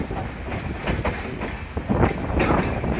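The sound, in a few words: train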